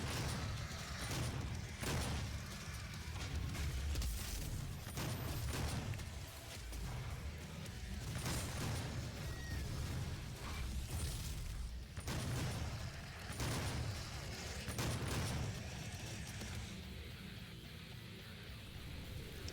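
Super Shotgun blasts in DOOM (2016) on PC, repeated heavy booms at irregular intervals through a dense, noisy combat soundscape with rumbling mechanisms and chaotic background din.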